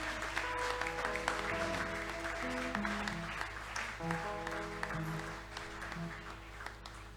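Church congregation clapping steadily through a sustained tone, with held musical notes ringing along under the continuous applause.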